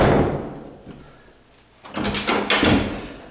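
A door latch clicks shut into its strike plate with a short cluster of sharp impacts and rattles, fairly close and moderately loud after a quiet pause.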